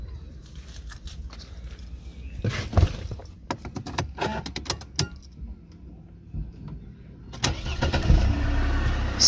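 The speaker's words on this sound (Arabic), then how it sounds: "نجيو نديماريو الطوموبيله ديالنا" A used car's engine is started during a pre-purchase inspection: a burst of clicks and rattles, a starter crank, then the engine catches and settles into a steady running idle near the end.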